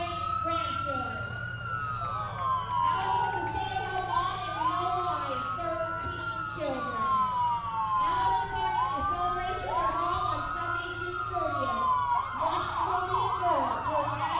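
Wailing emergency vehicle sirens from a local EMS crew sweep up and down continuously during a parade, loud and close over a low engine rumble and crowd murmur.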